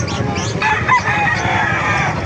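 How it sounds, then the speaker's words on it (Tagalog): Roosters crow loudly and close at a market in Calumpit, Bulacan, a drawn-out crow ringing over a busy crowd murmur and clucking birds. "Pakita ko sa inyo mga manok sa Kalumpit."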